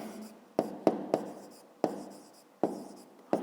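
Pen or pencil writing by hand on paper while working a fifth-grade maths exercise: six sharp taps and short scratching strokes, close and fairly quiet, spaced irregularly across a few seconds with no talk.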